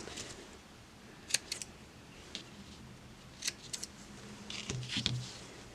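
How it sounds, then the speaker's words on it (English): A few crisp scissor snips cutting crochet yarn tails on a small football appliqué, sharp brief clicks spaced apart, close and quiet against faint room noise with light handling sounds. "And you can cut those tails."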